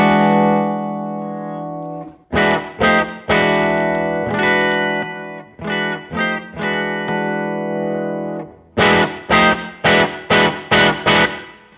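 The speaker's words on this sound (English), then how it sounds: "I'm going to add a little talisman reverb here to spice things up just a bit." Electric guitar through an SFT with a touch of Talisman reverb, loud chords and picked note groups ringing with a reverberant tail, ending in a quick run of punchy staccato stabs, with no voices.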